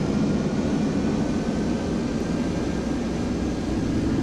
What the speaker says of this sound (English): let's push the throttles forward.